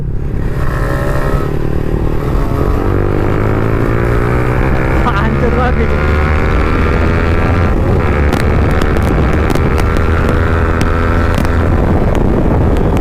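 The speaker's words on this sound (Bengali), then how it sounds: "এত হাওয়া।" Heavy, steady wind roar buffets the microphone on a motorbike ridden fast without a helmet during a road race, with the engine droning underneath and no break for the whole stretch.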